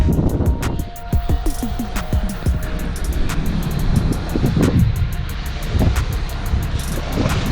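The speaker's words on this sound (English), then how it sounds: "It's coming down. Wind is blowing." Wind gusting outdoors during an early autumn snowfall makes a steady roar of rumbling noise against the microphone, with buffeting bursts and a faint clicking pattern throughout.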